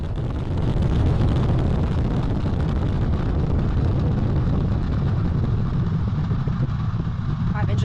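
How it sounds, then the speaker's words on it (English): Artemis 1 lifts off with its core stage engines and two solid rocket boosters firing, a loud, continuous, low rumbling roar that holds heavy and unbroken throughout. "Boosters in ignition. And liftoff of Artemis 1."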